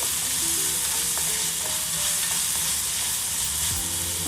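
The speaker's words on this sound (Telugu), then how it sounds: "క్యాప్సికమ్ ముక్కలు అలాగే టొమాటో ముక్కలు కూడా వేసుకోవాలి ఇప్పుడు" Capsicum and tomato pieces fry in a hot pan for a masala bread recipe, a steady loud sizzle with occasional stirring scrapes and no talking.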